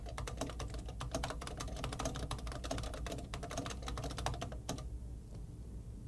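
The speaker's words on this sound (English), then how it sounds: "Using the Tioga editor, you simply point and type, and the characters are inserted into the document." Rapid typing on a computer keyboard while entering text in the Tioga editor of the Cedar programming environment: a quiet, steady stream of clicking keystrokes in irregular bursts that stop near the end.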